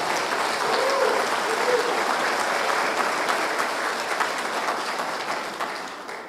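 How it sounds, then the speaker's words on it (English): Sustained applause from a crowd at a formal gathering honoring the Premier of Saskatchewan, steady and full throughout, fading slightly at the end. "So let's give him one more nice round of applause."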